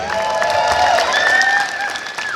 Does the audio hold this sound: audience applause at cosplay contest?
yes